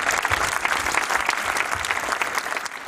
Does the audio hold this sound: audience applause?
yes